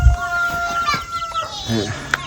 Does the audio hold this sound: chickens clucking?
yes